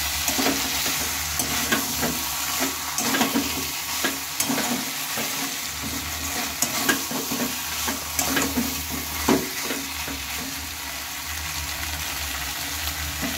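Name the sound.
soybean chunks being stirred and fried with spices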